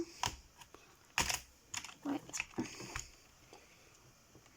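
Keys clack on a Genesis Thor 200 RGB gaming keyboard in irregular bursts of close, crisp taps with short pauses between, against a quiet room.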